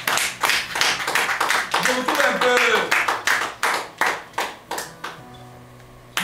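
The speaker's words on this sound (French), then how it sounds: "applaudissez un peu le Seigneur" A church congregation claps in a steady rhythmic beat during a worship service, loud and close, with some voices mixed in before the clapping thins out toward the end.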